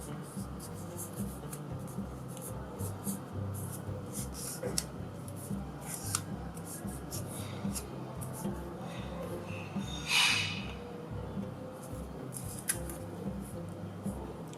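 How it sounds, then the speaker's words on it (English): Scissors trim the corner of a folded dollar bill, giving faint crisp paper snips and rustles over a quiet background, with one brief sharper snip standing out. "you can trim the corner to make it easier for you"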